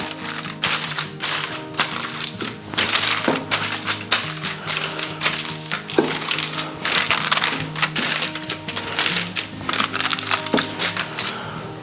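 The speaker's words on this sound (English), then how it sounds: "All we need to do now is cover it with kitchen foil, pop it in the oven." Kitchen foil crinkled and pressed over a dish of chicken and vegetables before braising in the oven, a run of close crackling, crunching and tapping bursts with uneven rhythm and no talk.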